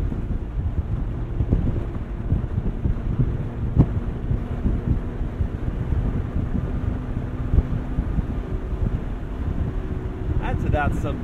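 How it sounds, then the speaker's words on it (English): Wind turbulence roaring around the open cabin of a McLaren 720S Spider convertible on the move, a steady buffeting rush throughout with engine and road noise beneath. "you can always play with the window heights to kind of mitigate some of that turbulent noise"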